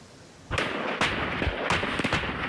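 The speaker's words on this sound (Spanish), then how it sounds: "La cadena de explosiones que ustedes ven y escuchan se registraron en los túneles de mineros ilegales" Several heavy explosions go off in a chain inside illegal mining tunnels in Colombia, deep booming blasts one after another with rumbling between them, loud and echoing.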